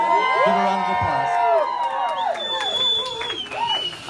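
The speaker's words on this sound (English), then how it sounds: "So give a round of applause." Wedding guests clap and cheer for the Garza and Sklenar families during a best man speech, a short burst of mixed clapping, whoops and excited voices that rises quickly and then fades somewhat.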